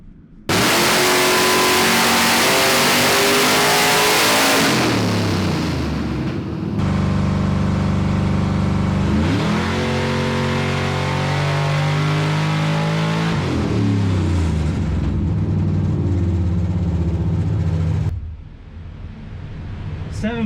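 Supercharged G-Body engine with a Whipple blower, running on a dyno under Holley Terminator X tuning, revs hard in loud sustained pulls with rising and falling pitch, easing off briefly between sweeps before cutting out near the end.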